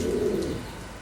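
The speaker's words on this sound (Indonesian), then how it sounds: "merpati hias jenis Jakobin" A Jacobin fancy pigeon gives a single short, low coo, close and clear against a quiet background.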